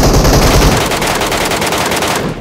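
Loud, rapid automatic gunfire rattles in the mobile battle royale game PUBG Mobile, a dense stream of closely spaced shots that tapers slightly near the end.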